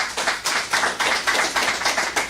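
Congregation clapping together during a Sunday church service, a dense, steady applause of many hands with rhythmic swells, fairly loud and close, with no talking over it.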